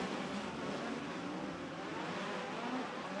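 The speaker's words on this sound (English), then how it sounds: "We are racing at Lincoln Speedway." POWRi midget race cars scream around the dirt oval at Lincoln Speedway in a dense, unbroken wall of engine roar, loud and constant throughout with no voices.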